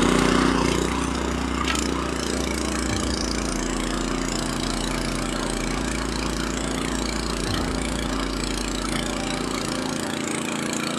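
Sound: Hortmasz rotary tiller engine running while tilling fallow ground

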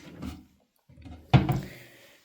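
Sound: simple bathroom sink cabinet drawer opening or closing

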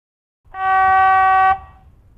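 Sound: electric locomotive low signal horn

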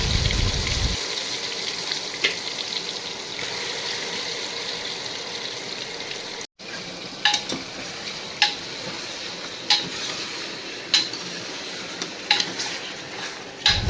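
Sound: marinated chicken sizzling as it goes into hot oil

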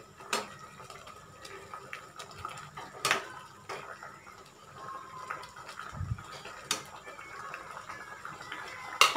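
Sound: stirring garam masala into egg omelette curry in a pan

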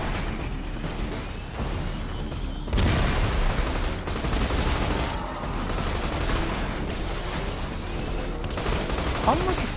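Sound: missiles firing and explosions in Borderlands video game

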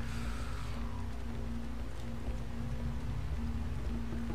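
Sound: rain in the video game Star Wars Republic Commando

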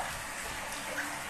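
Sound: shower running water

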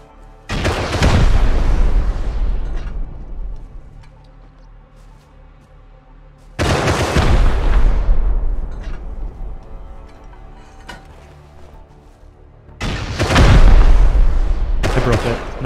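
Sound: gunfire in the video game Rust

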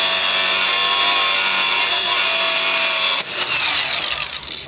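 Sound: angle grinder cutting

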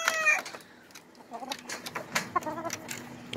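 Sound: fighting rooster of the Araña line

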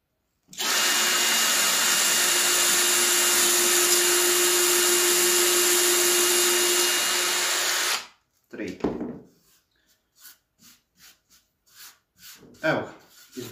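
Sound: power drill drilling three holes

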